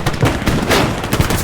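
Dense bursts of gunfire crackle through a Hell Let Loose battle, overlapping shots and rapid automatic fire forming a loud, continuous barrage with sharper individual cracks standing out.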